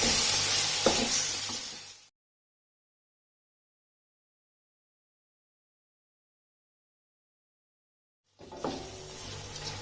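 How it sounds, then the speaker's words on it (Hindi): Chicken fries in oil, sizzling and crackling steadily with occasional stirring clatter, then cuts to silence before the frying resumes near the end. "चिकन को वाइट होने तक इसमें ऑयल में फ्राई कर लेना है"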